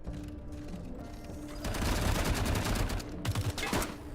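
Rapid bursts of gunfire in the post-apocalyptic video game Wasteland 3, a dense fusillade of overlapping shots and mechanical clatter that swells after a quieter opening and keeps going to the end.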